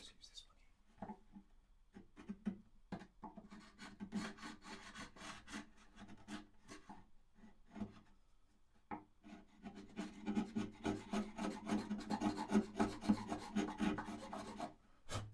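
A small wooden-handled chisel paring and scraping wood from a guitar neck joint, making close, dry rasping strokes in short bursts that grow denser and louder toward the end.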